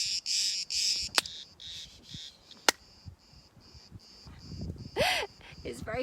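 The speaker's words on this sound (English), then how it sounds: "I'm just going to see if I can stop these bugs" Insect buzzing and cricket-like trills come in bursts, loud at the start and again near the end. They sound close and carry on under quiet talk between the bursts.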